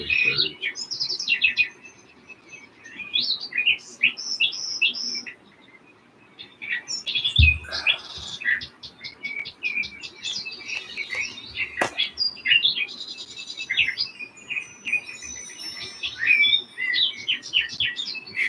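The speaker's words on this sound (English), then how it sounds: "Listen to the birds." Birds chirping outdoors on a sunny, chilly day, bursts of bright tweets and calls coming and going, fairly near, with a brief thump partway through.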